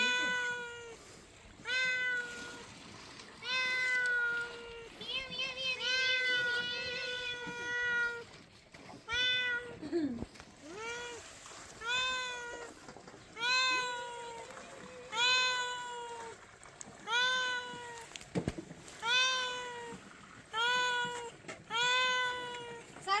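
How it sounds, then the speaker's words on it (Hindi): A cat meows over and over in a steady run of loud, close, drawn-out cries. The setting is a mountain road trip in Ladakh, between Lingshed and Padum. "जी बिल्ली चाहिए तो लेके जाओ"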